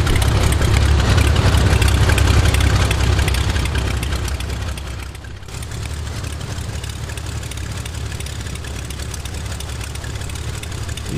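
Simulated Cessna 185 Skywagon engine idling in Flight Simulator X, a loud, low droning propeller rumble that eases slightly partway through, then settles into a steady idle.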